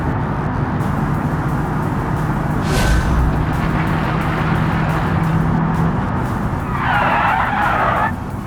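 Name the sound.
car tires skidding under hard braking in BeamNG video game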